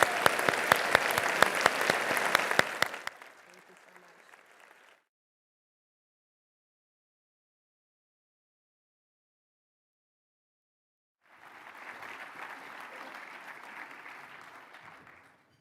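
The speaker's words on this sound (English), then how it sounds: "Let's end with a round of applause." Audience at a benefit breakfast gives a round of applause, with crisp, loud clapping at first that thins and trails off. After a silent gap, a softer, steady wash of crowd clapping returns.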